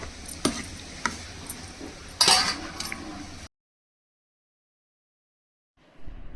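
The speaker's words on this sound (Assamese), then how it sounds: "এয়া আজি বনাইছোঁ মই কচ মাছ আলু বিলাহীৰে" Koch fish with potato and tomato is stirred in a pan: a few sharp utensil clinks and scrapes over a soft sizzle, then a stretch of silence before faint sizzling returns.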